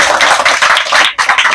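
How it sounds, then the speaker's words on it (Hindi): A classroom of students claps loudly and continuously, a dense burst of applause that dips briefly near the end before resuming. "इसके लिए भी जोरदार ताली।"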